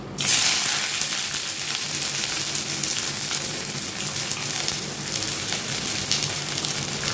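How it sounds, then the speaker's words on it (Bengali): Sliced onions hitting hot oil in a wok (kadai), a loud steady sizzle with a sudden burst at the start that settles into continuous crackling frying. "তেল গরম হয়ে গেছে, এবার আমি পেঁয়াজগুলো এতে ছেড়ে দিচ্ছি।"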